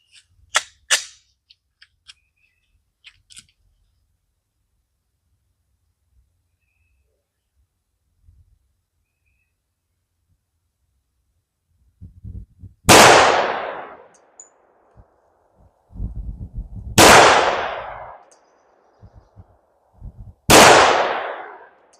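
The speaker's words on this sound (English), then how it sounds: "starting off the accuracy test with the Underwood 200 grain. Hard cast will be shooting at the top left pasty" Three loud, sharp gunshots from a Glock 20 Gen 5 pistol firing Underwood 200 grain hard cast rounds in an accuracy test. The shots come several seconds apart, each ringing out with a decaying echo, and quieter handling clicks come before them.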